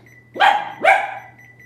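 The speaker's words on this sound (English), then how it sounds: "Please don't bark, Pen." A dog indoors in a kitchen gives two sharp, close barks about half a second apart over a low steady hum from a dehumidifier.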